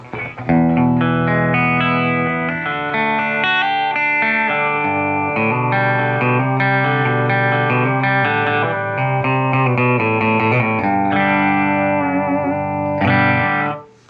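Electric guitar played clean on the bridge pickup straight into a Fender '65 Deluxe Reverb Reissue tube amp with no pedals or added reverb, a steady run of chords and single notes, loud and close throughout.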